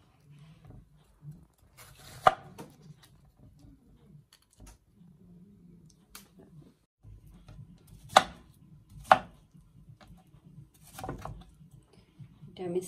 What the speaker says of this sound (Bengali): দেন আমি এটাকে স্লাইস করে নেব।